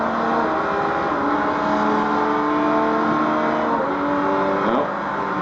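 LMP prototype race car engine in Forza Motorsport 3 at Le Mans, a loud sustained high-revving drone holding steady with gear-change pitch shifts near the end, no talking over it.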